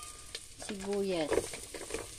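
Onions sizzle and fry in a pan for a fish-head dish while being stirred, a soft crackling hiss with scraping strokes, and a brief voiced sound rises over it.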